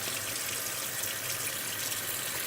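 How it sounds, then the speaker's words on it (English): Cold water pours steadily onto cooked lamb meat, a continuous close gushing hiss with no breaks and no voices. "since it's too hot to handle, we're going to pour into it cold water"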